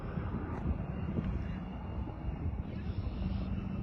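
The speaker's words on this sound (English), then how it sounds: "Airbus A320-200. Air Canada Frosted Leaf livery." An Air Canada Airbus A320-200 in Frosted Leaf livery lands, giving a steady, broad roar of engine and rushing air with wind buffeting the microphone throughout.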